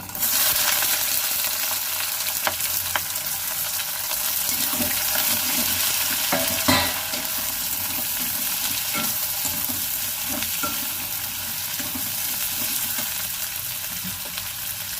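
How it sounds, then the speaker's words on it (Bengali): Chopped onions frying with salt in a pan, a continuous bright sizzle with intermittent scraping and stirring knocks throughout, no one speaking. "ভালো করে পেঁয়াজটা লাল লাল করে ভেজে নেব"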